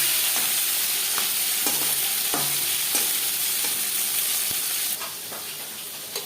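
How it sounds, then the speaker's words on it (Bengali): Rohu fish pieces frying in oil make a close, continuous crackling sizzle with occasional spatula taps and pops, easing slightly quieter near the end. "এখানে আমি রুই মাছ দিয়ে ফ্রাই করছি"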